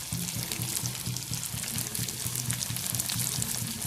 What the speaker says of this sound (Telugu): మనం ఇంకొక 2 minutes ఇలా వేయించుకోవాలి.